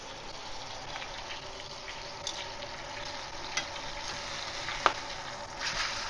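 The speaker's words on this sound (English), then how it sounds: "a steak searing in a pan" A steak searing in a hot pan gives a faint, steady sizzling hiss with a few small pops and crackles, close and continuous, with no talking over it.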